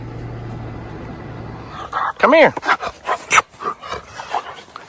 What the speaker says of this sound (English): Hey, little puppy dog. What you doing?